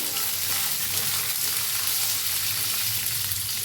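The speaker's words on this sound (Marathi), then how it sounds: "ह्याच्यात घालूया आवळा त्याला भाजून घेऊया" Amla (Indian gooseberry) roasting in a pan for a chutney, a steady close sizzle and crackle of frying with occasional stirring, continuous throughout and with no one talking.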